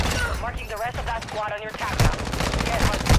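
Gunfire in the video game Warzone crackles in quick bursts of rapid shots, loud and close, mixed with someone speaking over it.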